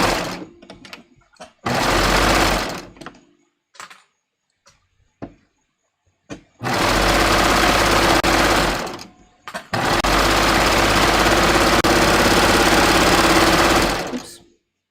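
A serger stitching fabric with its cutting knife engaged: three bursts of rapid, loud mechanical whirring, one short and two longer runs, separated by quiet gaps with small handling clicks.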